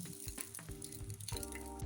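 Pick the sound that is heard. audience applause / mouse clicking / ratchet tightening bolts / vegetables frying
vegetables frying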